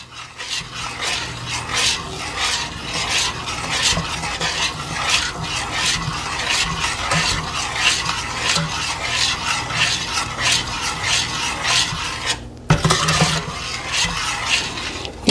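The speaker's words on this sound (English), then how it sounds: "we are going to go ahead and melt that butter and mix in the brown sugar with the butter and the milk" Butter melting with brown sugar and evaporated milk in a pot over medium heat, stirred in a steady close scraping rhythm with a soft underlying sizzle, briefly pausing before resuming.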